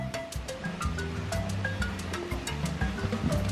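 A steady wash of rushing water like a waterfall, with scattered tonal sounds over it and no one talking.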